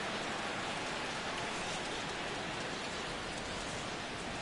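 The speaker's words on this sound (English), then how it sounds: "The rain, as we've mentioned, coming down fairly steadily here at game time." Steady rain falls over a baseball stadium during a Dodgers versus Rockies game in MLB The Show 16, a dense, even hiss that holds constant and alone throughout.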